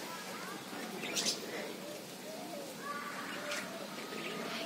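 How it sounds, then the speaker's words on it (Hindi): Small birds in an aviary chirp and twitter softly, with a few brief calls above a continuous murmur of background noise and faint distant voices. "अभी ना मैं आपको यहाँ पे ये चिड़ियों का घर दिखाती हूँ. बड़े ही प्यारे प्यारे चिड़िया है यहाँ पे."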